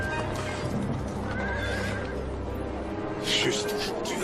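A horse whinnies amid hoof clip-clops and a busy outdoor background, with a louder neigh near the end; voices speak faintly in the scene.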